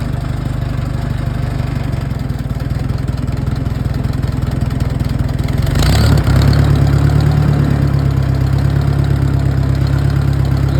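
A used tractor engine runs steadily in gear, a continuous low mechanical drone that grows slightly louder and rougher midway as the load or throttle changes.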